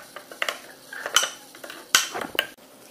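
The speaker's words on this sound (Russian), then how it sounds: "Бери ложку, размешивай." A small spoon clinks and scrapes against a container while stirring craft material, giving irregular metallic taps with a few louder sharp knocks, close up and without talk.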